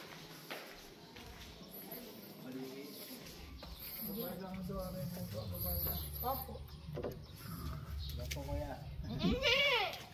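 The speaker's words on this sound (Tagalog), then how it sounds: "May natanaw akong kambing." A goat on a farm bleats several times at moderate distance, wavering calls rising near the end, mixed with people talking and rural background noise.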